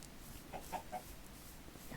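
A few soft, faint chicken clucks come in quick succession against a quiet background.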